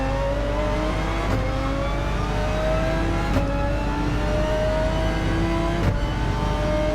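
Race car engine in the video game Gran Turismo 7, heard from inside the car, a loud steady drone with pitch shifting down and back up through gear changes and brief blips.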